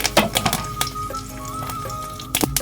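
Mustard and cumin seeds with curry leaves crackle and pop in hot oil in sharp, scattered bursts over a faint steady hiss.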